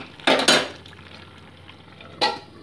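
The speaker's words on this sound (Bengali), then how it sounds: "দিয়ে ধনেপাতাটা দিয়ে ভালো মতো নেড়ে ছেড়ে আরও 2 মিনিট আমি ঢেকে ফুটিয়ে নিচ্ছি।" Dried fish and vegetable curry with coriander leaves being stirred in a pan, giving two quick scraping bursts close by, then a quiet simmering pause before one more short stir.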